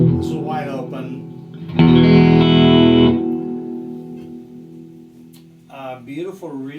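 An electric guitar plays through an Ironhorse Heritage Blackface 1x12 combo amp with reverb, a strummed chord swelling loud then ringing out in a long reverberant decay, with someone speaking before and after.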